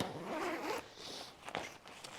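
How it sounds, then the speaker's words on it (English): A tent door zipper is drawn open in a short continuous pull of about three-quarters of a second, followed by a couple of quicker, fainter tugs, close and fairly loud with no talking. "Zipper."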